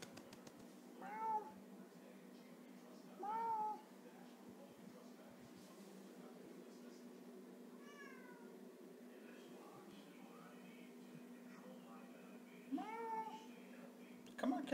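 A pet cat meows four separate times, spaced several seconds apart and fairly faint, over a low steady indoor hum.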